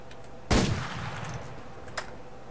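A sniper rifle fires in the online shooter game Survarium: one sharp, loud shot with a short reverberant tail, then a fainter distant crack about a second and a half later.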